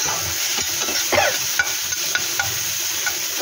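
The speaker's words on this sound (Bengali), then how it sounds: "একটু ভাজা ভাজা করে নেবো।" Food fries in a pan while being stirred, a steady sizzle broken by repeated close scraping and clinking strokes of a spatula against the pan, roughly one every half second.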